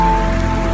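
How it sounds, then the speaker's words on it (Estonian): Steady, dense rain falling outdoors during a journalists' decathlon event, heard loud and close as a continuous patter. "Vihma saab."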